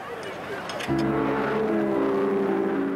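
A Mercedes W125 racing car engine kicks in partway through, settling into a steady, loud droning hum after brief quieter background noise.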